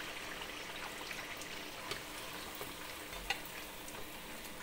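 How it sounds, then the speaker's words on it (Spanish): Tortillas for tostadas frying in hot oil, a continuous soft sizzle and crackle with faint pops, steady and fairly quiet throughout, no voices. "Las ponemos aquí en el aceite caliente."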